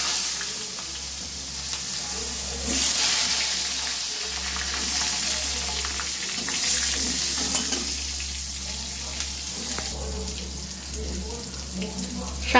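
Eggplant pieces fry in a pan with a little salt, ahead of a bhetki fish curry. A steady, moderately loud sizzle and bubbling continues throughout, with occasional stirring and a low hum underneath.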